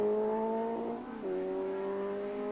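A race car at Sandown in 1980 howls at steady high revs, its tone briefly dipping before climbing back as the throttle is floored again; the engine sounds distant and faint.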